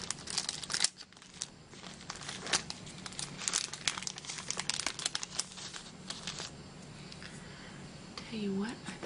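Sheets of letter stickers being handled and sorted among art supplies, giving close, continuous crinkling and crackling with bursts of tearing-like rustle, fairly quiet and intimate, with a faint voice briefly at the end.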